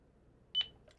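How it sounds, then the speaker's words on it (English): A single short, sharp electronic beep from a EufyCam E330 home base after its sync button is held, rising briefly out of a quiet room with faint hum. "press the sync button for 2 seconds until you hear a beep."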